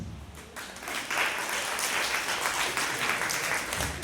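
A comedy show crowd answers with applause, starting quieter and then swelling into a full, steady round of clapping and some crowd noise that carries on for several seconds.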